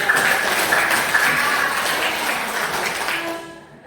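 A classroom audience applauds with dense, continuous clapping that holds steady and then fades out toward the end.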